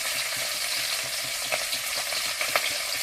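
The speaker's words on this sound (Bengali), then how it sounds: "মাছগুলো ভাজা হচ্ছে, প্রায় লাল লাল হয়ে এসেছে।" Magur catfish frying in hot oil in a kadai gives a steady, dense sizzle with occasional crackles and light stirring taps, close and continuous with no talk.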